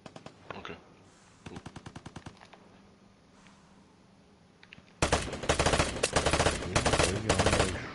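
Gunfire in the game Vigor, with rapid bursts of automatic shots at moderate distance, followed by a much louder, closer stretch of dense firing near the end.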